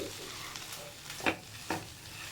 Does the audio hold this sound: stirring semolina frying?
yes